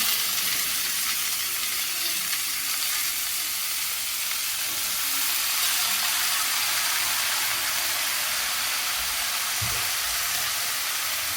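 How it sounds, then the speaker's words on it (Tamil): Eggplant frying with onions in a pan for a Tamil brinjal fry, a steady broad sizzle hissing continuously at close range, with no talking over it. "இப்போ அடுத்து வந்து நம்ம கத்திரிக்காய் போட போகிறோம்"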